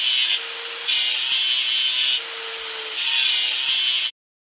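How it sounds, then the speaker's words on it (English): Grinder scrubbing rust off a cement truck in a video game, a harsh, loud abrasive rasp in strokes that rise and ease in an uneven rhythm, alone, ending abruptly. "Drag the grinder over the stain and clean the rust."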